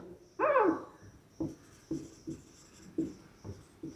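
Marker or chalk writing on a board while drawing up a table: one longer squeaky stroke followed by a string of short, separate scratching strokes at a steady pace, close and clear with no talking.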